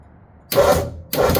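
A 1948 Ford truck engine cranks and catches in two loud bursts, each lasting a fraction of a second, separated by a short pause, close by.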